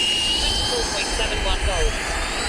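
A Freewing F-15 RC jet with twin 90mm ducted fans takes off, its steady, loud, high-pitched whine and rushing roar holding close and continuous throughout.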